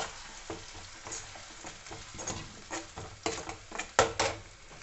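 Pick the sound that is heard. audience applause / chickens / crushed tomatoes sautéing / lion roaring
crushed tomatoes sautéing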